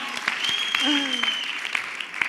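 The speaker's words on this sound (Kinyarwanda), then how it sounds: "Amashyi menshi kuri set nyaboneka." Audience applause at a live comedy show, a steady wash of clapping lasting a couple of seconds, with a few voices and a brief whistle-like cheer rising over it.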